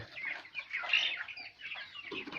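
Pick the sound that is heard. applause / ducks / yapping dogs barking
ducks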